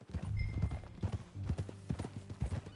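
A ridden horse clip-clops along in a close, clear, uneven rhythm of hoofbeats, with a few brief pauses between strides.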